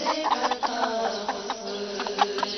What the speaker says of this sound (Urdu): مرغی،